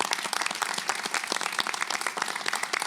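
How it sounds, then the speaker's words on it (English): An evening event audience gives a round of applause, a dense, steady wash of many hands clapping with no talk over it. "this round of applause from us on the stage is for all of you"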